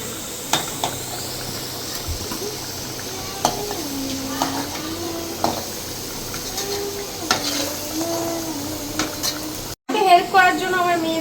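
Potatoes fry in hot oil for a mutton curry, sizzling steadily close by while a utensil scrapes and stirs at intervals, as someone talks over the cooking.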